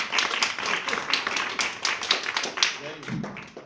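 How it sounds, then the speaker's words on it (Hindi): A group of children clapping in a classroom, a quick run of sharp claps for several seconds, with an adult voice talking over it. "इसकी ताली बजा दो एक बार"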